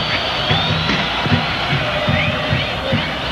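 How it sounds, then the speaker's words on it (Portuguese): Vasco supporters cheer in the São Januário stadium during the 1998 Libertadores final against Barcelona, a steady distant crowd roar with rising swells under a commentator's voice. "a torcida do Vasco finalmente acorda de novo"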